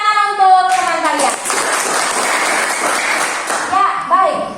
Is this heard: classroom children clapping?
yes